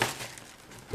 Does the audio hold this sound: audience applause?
no